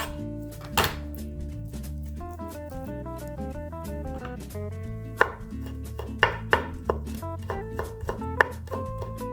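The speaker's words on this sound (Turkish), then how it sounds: "Bunları da küçük küçük doğruyorum." Rapid, rhythmic knife chops on a cutting board, finely chopping vegetables, sharp close thuds repeating over a steady background of soft music.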